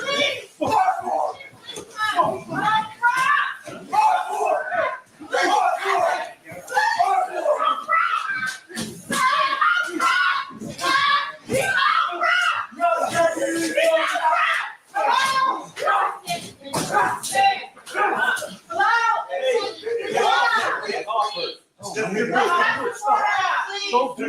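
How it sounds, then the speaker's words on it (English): A family screams and shouts in distress at a man to stop during an attack by a child's father, with overlapping frantic voices, a child among them, and loud cries close by throughout. "You can hear his family screaming for him to stop."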